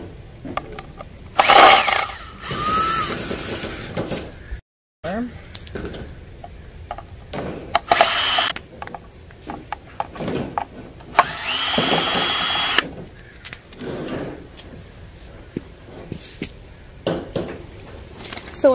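A power drill backs anchors out of drilled holes while building a large wooden star, with several loud bursts of whirring spaced between handling clunks and clicks, close up and without talk.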